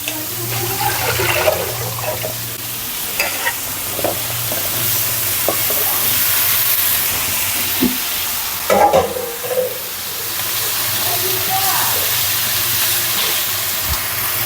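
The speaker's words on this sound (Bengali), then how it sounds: "এদিকে মাছ ভাজা হচ্ছে" Fish frying alongside a mixed vegetable curry in a pan, a constant loud sizzle and bubbling with occasional scraping and stirring clatter, a low hum underneath.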